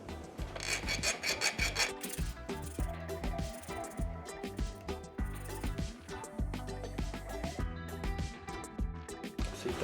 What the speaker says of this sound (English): and then you have to file it off if you want the chain to run smooth.